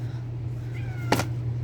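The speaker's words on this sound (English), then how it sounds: "And then, that's a cat." A cat meows once, a short bright call close by, over a steady low hum in an indoor pantry.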